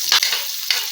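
Onion dropped into garlic already frying in a pan, a loud close hiss and sizzle with two sharp bursts of crackle as the pieces hit the hot oil.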